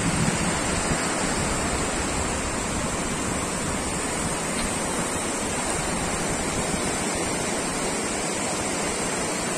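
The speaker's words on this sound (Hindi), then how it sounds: "बहुत ही सुंदर किनारा है ये समंदर का" Sea waves wash onto the shore at Mui Ne beach in Vietnam, a steady, dense hiss of surf close by, with light wind noise and no talk.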